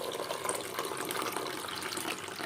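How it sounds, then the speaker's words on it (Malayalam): Ginger tea with milk poured into a glass, a steady broad liquid splash and trickle that runs evenly throughout, fairly close and alone without any talk. "എൻ്റെ ഗ്ലാസ്സിനകത്തോട്ട് ഇഞ്ചി ചായ ഒഴിക്കുന്നതാണ്"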